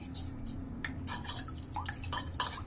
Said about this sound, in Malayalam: നല്ലപോലെ കലക്കുക. ഇതുപോലെ കലക്കണം, ഇതുപോലെ മിക്സാക്കണം.